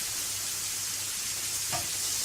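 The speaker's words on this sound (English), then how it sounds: "And just leave them there to just simmer away until they go nice and soft and translucent." Onions simmering in a pan over lowered gas heat, a steady close crackling sizzle with a soft hiss. A brief knock or clatter sounds near the end.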